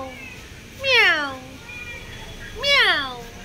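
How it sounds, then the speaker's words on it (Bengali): A cat near the front of a house on a trip to Puri meows twice, loud and close, each call a drawn-out wail that rises and falls, with quieter background noise in between. "দেখো আমাদের ঘরের সামনে কে এসেছে, বিল্লা এসেছে"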